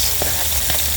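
Onion, ginger and garlic frying in hot oil in a pan over a wood fire, a loud, dense crackling sizzle throughout with a couple of faint stirring scrapes, no voices.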